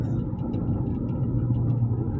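Inside a Toyota Innova, the engine gives a steady low rumble as the car accelerates in gear, close and even throughout.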